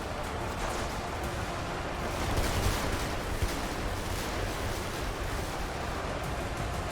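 Dense, continuous gunfire from a massive Ultimate Epic Battle Simulator 2 battle of a WWII U.S. Army force with shotguns against trolls, a steady roaring barrage of overlapping shots with a brief louder swell midway.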